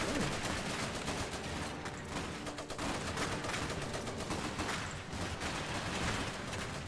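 Riflemen gunfire in the Iron Harvest strategy game: dense, continuous volleys of overlapping rifle and machine-gun shots crackle without pause for about seven seconds, loud and close, with no one talking.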